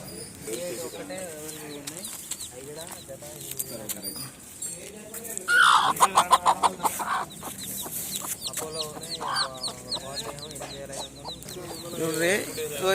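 A hen clucks in short bursts, with a louder flurry partway through, while people talk over it for most of the clip.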